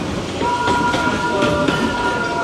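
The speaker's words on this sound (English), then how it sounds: "That's a long train." A long train rolls past at Disney's Animal Kingdom, a loud, steady rumble and rattle of cars with a faint tonal squeal, continuous for the whole stretch.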